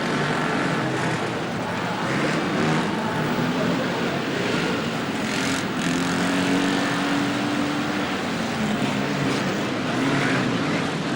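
Old vans in a 1983 figure-of-eight banger race, a continuous loud roar of many engines revving together with no pauses, close and dense throughout.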